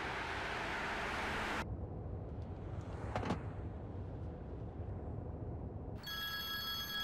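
A telephone rings in a quiet room, a bright ringing burst at the start and another near the end, separated by muffled background hum with a brief clatter in between.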